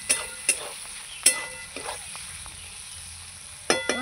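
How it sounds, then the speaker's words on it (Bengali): Potatoes, mushrooms and onions frying in a pan, with a few sharp clinks of a utensil stirring over a soft, steady sizzle, close and fairly quiet. "আলু, মাশরুম, পেঁয়াজ আমার খুব ভালো করে ভেজে নিয়েছি।"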